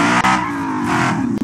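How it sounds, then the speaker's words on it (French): A car engine revs hard in BeamNG.drive, a loud, close roar rising and falling in pitch with a harmonic tone and short breaks between bursts. "On va tester la bagnole!"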